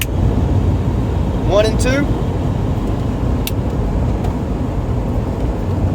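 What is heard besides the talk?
car driving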